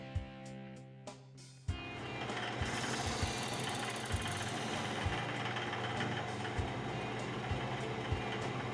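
A dry wooden Christmas ornament is cut off on a lathe or saw, steady machine whir running throughout with a faint rhythmic thump, after a short stop-start at the beginning.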